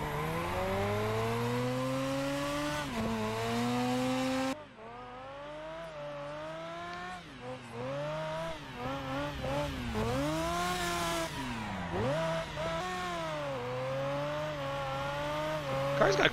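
A car in a racing video game holding a four-wheel slide, engine droning and sweeping up and down in pitch with tire squeal mixed in, loud and continuous throughout.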